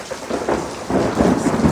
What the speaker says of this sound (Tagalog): Oh, lakas ng kulog.